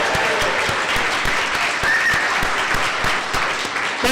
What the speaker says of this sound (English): give us all a round of applause